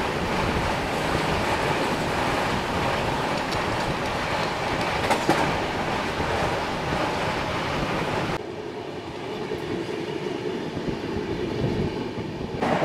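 A Howrah Rajdhani Express train rolls along at speed, its loud steady rumble and rhythmic clatter of wheels over rail joints continuous throughout, softening slightly toward the end.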